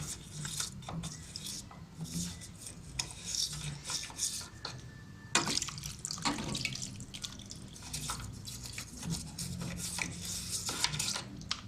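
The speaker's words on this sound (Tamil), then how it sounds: "தண்ணி நம்ம இதோட ஊற்றி வந்து நல்லா க்ளீன் பண்ணலாம்." Water is poured and splashed over a washing machine part while it is scrubbed clean, giving a continuous trickling and rubbing wash with occasional louder splashes, close by and without speech.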